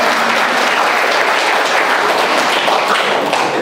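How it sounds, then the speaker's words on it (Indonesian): Audience applause fills a church during a worship service, a dense, steady wash of many hands clapping close and loud throughout, with no talk over it. "Tepuk tangan buat saya."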